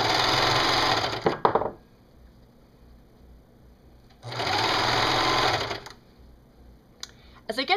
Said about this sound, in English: I'm going to connect these using my serger